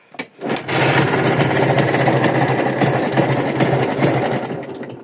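Minsk 125cc motorcycle engine fires up after a brief cranking and settles into a loud, steady, raspy idle close by, with no talking over it.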